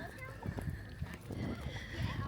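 Horses at a rural campsite, heard as soft hoof clops and snorts close by, with a voice talking over them.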